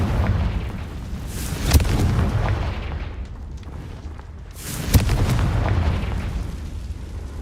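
Two booming Confringo spell blasts from Hogwarts Legacy erupt a few seconds apart, each a sharp explosive crack swelling into a dense rumbling roar over continuous low game ambience.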